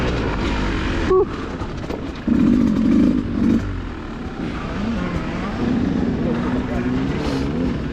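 A Beta 200 dirt bike runs close by at a demo day with a steady engine drone, while a rider speaks over it.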